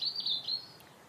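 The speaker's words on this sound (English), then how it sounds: "hear the birds sing is magical" Bright, high chirping birdsong, a few quick phrases close by, fading slightly toward the end with no voices.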